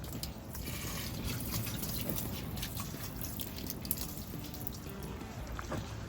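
Water poured onto a deck runs down through a drainage system, giving a steady close trickle with scattered drips and splashes and no speech.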